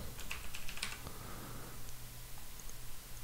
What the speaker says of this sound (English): just go to settings, project settings, and go ahead and type in collision in the search